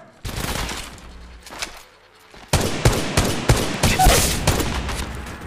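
G7 Scout rifle fire in Apex Legends Mobile snaps out in rapid, close single shots and bursts, with a short lull and then a denser run of shots.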